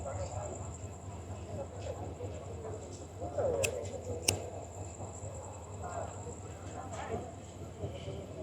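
A passenger train from Jamalpur to Dhaka runs, heard from inside its last carriage as a steady low rumble with occasional sharp clicks and clacks, with faint voices nearby.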